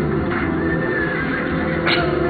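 A horse neighs inside the ChoroQ racing video game, a loud stretched whinny over steady engine and game noise, with a brighter burst near the end.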